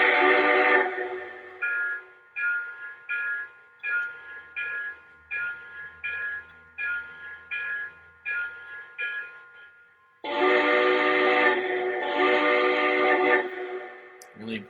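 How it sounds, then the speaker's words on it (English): A model train locomotive's electronic digital sound system blows its whistle, first one long blast, then a steady run of about a dozen short toots, and finally another long sustained blast, clear and close. "here's what an electronic digital sound."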